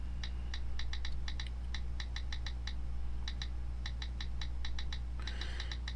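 Quick bursts of light clicking taps come from typing on a BlackBerry Storm touchscreen keyboard, irregular clusters of close, crisp keystrokes over a low steady hum.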